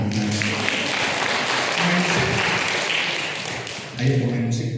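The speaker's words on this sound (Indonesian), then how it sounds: "Tepuk tangan." A church congregation applauds, a dense wash of clapping that holds steady, dips briefly, and swells again near the end, with voices mixed in.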